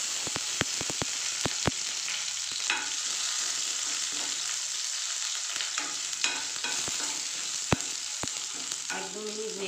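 Squash, ginger and slit green chillies fry in a pan with a constant sizzle, punctuated by sharp clicks and scrapes of a spoon stirring, close and without talk.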